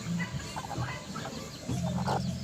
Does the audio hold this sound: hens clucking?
yes